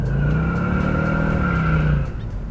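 A 1971 Oldsmobile 442 convertible pulls away hard, its engine note rising in a loud, sustained roar with a faint squeal of tires, ending with a slight drop-off as it eases.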